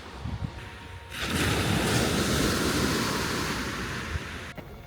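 A wave washes onto the shore of a Fukuoka seaside: quiet at first, then a single broad rushing surge swells for about three seconds before cutting off.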